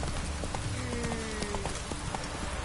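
Roach, Geralt's horse in The Witcher 3, galloping with steady, rapid hoofbeats clip-clopping close by, loud and continuous over a brief stretch.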